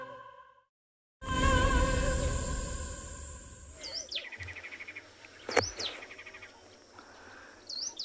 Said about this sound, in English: So I can hear a little ashy tit calling behind us.